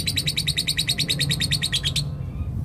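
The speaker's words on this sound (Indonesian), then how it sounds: "Burung ini dia ngekek ya, tapi belum terlalu gacor ya teman-teman." A caged songbird gives a rapid chattering ngekek call, a fast run of sharp repeated bright notes, close and loud for about two seconds before stopping abruptly, leaving a quiet room tone.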